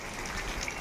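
Rain falling in a quiet village makes a soft, even, broadband hiss with no other sounds, heard for under a second.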